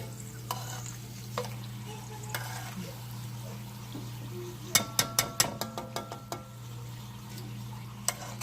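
Homemade chips fry in hot grease with a steady low hiss under a constant hum, broken by a quick cluster of sharp clinks and taps and a few isolated knocks.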